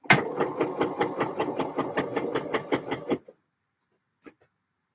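Domestic sewing machine stitching a skirt, running in a steady rapid rhythmic chatter for about three seconds, then stopping, followed by a couple of faint clicks.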